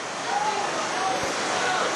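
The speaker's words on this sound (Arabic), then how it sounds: "هو شلال وادي البارد الذي يسكن أحضان أعالي جبال بلدية" The Oued el Bared waterfall in the mountains of Setif, Algeria, a dense continuous roar of falling water heard close and loud throughout, with a voice faintly over it.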